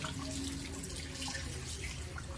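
Kitchen tap water runs steadily while fish is rinsed and cleaned at a sink, a continuous close splashing hiss with no talk over it.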